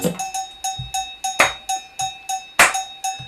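Solo drumming in a live drumming workshop: bright, metallic, cowbell-like strikes in a steady quick rhythm, with occasional louder accented hits and low thumps, close and clear with no talking.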